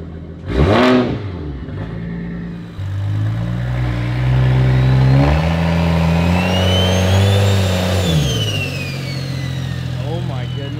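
BMW 335i with an N55 engine and big single turbo kit blips hard once, then revs up and holds a droning, rising pitch before dropping back to idle, loud and close with turbo whistle above.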